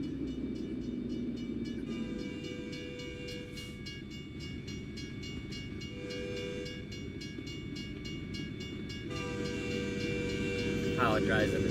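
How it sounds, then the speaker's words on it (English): A train rumbles past in American/Euro Truck Simulator as a steady, loud, continuous roar with a low drone and tonal layers on top, growing slightly louder toward the end, where a few brighter squeals appear. "now we'll see how loud the train is"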